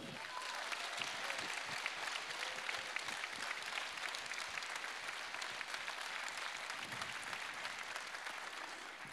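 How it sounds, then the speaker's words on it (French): Sustained applause fills a political rally hall in Valenciennes, a dense wash of many hands clapping steadily and loudly for the whole stretch with no voice over it. "je pense que nous pouvons d'ailleurs les applaudir"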